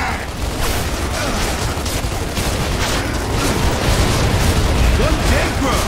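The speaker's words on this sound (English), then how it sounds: "Throwing frag!" A frag grenade in Gears of War 2 goes off amid a constant roar of gunfire and blasts, dense and loud throughout with no break.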